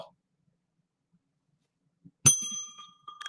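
After near silence, a single bright bell strike rings out sharply and its metallic tone lingers and fades.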